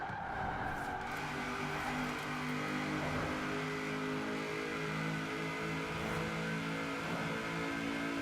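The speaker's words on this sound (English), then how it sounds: "just listen to that engine sound" A Mitsubishi car engine in Forza Horizon 4 roars at sustained high revs with faint tire squeals, a steady droning whine that holds throughout.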